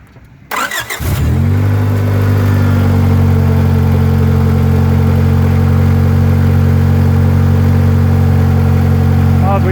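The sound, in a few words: car engine running with exhaust leak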